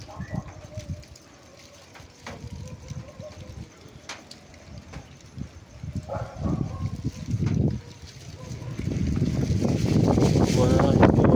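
Gusty typhoon wind in Pampanga, Philippines buffets the microphone in rising rumbling surges, growing stronger and louder toward the end, with scattered rustling and knocks.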